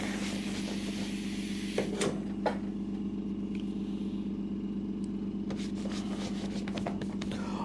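An air compressor in a workshop running to refill its tank, a steady droning motor hum with a constant low tone, close and unbroken, with a couple of faint knocks in between.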